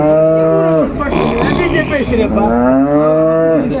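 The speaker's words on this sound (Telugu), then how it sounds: "ఆవు చూసుకున్నట్టయితే భారీగా ఉంది బేరం అయితే చేసుకుంటున్నారు వచ్చేసి" At a large Friday-morning cattle market in Palamaner, a cow gives two loud, drawn-out moos close by, with a busy stretch of crowd noise and voices between them.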